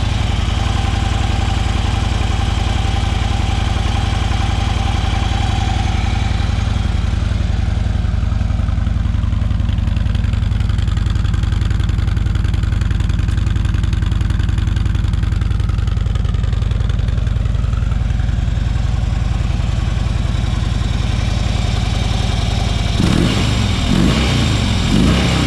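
A 2013 Harley-Davidson FLHTP police motorcycle idles close by with a loud, steady low rumble that holds for about twenty-three seconds before a brief louder change near the end.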